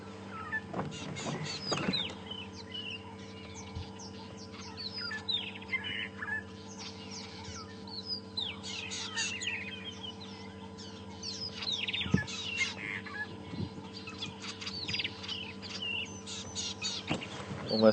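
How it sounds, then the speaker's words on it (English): Birds call from the bush at Djuma Game Reserve on a morning safari drive, scattered chirps and tweets, some near and some farther off, over a steady low engine hum with occasional knocks. "Something in there that was troubling for the birds"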